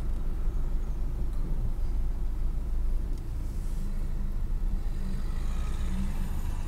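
A silver car passing during a corner-left reverse manoeuvre, heard through an open window as a low steady rumble of tyres and engine swelling faintly and fading, under the idle of the learner's own car.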